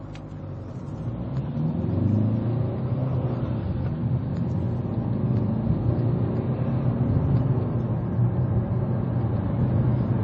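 A car accelerates hard while turning onto the A12, its engine rumbling low and building into a sustained, loud drone heard from inside the cabin, with no talking.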